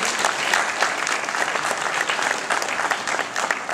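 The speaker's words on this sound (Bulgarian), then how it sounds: "Пак аплодисменти!" Loud, sustained applause from an audience at a Bulgarian website awards ceremony, dense clapping filling the whole stretch, close and continuous.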